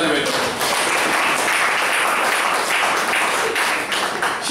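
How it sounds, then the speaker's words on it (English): An audience at an evaluation session breaks into a big round of applause for the speaker and the evaluator, a loud, dense, continuous roar of clapping filling the room for several seconds. "So give a big round of applause to the speaker and the evaluator"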